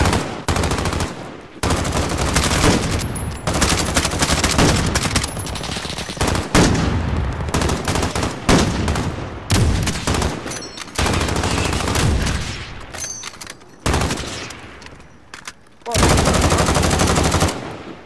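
Gunfire in the Warzone video game, loud close bursts of rapid automatic fire and single shots in repeated volleys with short gaps, dominating throughout.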